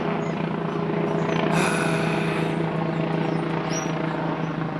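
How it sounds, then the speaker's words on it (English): A helicopter passes overhead with a steady, droning thrum, joined by a brief hiss partway through, outdoors near a digging site. "helicopter going over."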